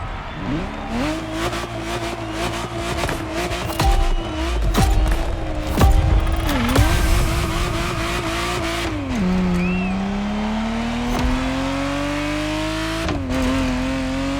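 A Ferrari Testarossa in The Crew Motorfest roars up and down through gears, engine pitch climbing and dropping with each shift, with brief tire squeal and a long steady pull toward the end, close and loud.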